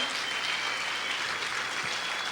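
Sustained, dense clapping from a church congregation during worship, loud and even throughout with no talk over it.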